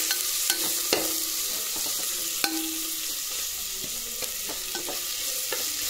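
Onions frying golden in a pan, with a steady close sizzle broken by several sharp scrapes and taps of a stirring utensil against the pan.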